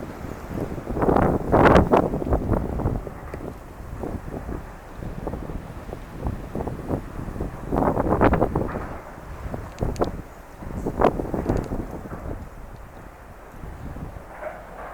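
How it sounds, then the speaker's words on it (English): Strong wind on a cold coast, about 1°C, buffets the microphone in loud, uneven gusts that rise and fall throughout, with no other clear sounds. "It's 1 degree Celsius, with really strong wind."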